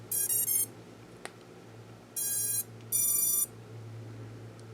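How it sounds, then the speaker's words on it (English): FPV toothpick drone motors beeping on power-up from a 2S battery during a smoke test: three separate bursts of bright electronic tones, the first a quick stuttering triple, then two steadier tones, over a low steady hum. "It sounded like at least a couple of the motors were beeping."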